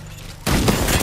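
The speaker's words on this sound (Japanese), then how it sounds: "スナイパーは撃ってくるし" A sniper rifle fires in the Apex Legends video game: after a short quiet lead-in, one sudden loud blast bursts out and rings on to the end.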